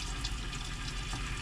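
Water runs steadily from a camper's mixer tap while the pressure pump surges under it, a continuous close hiss of flow with no talk.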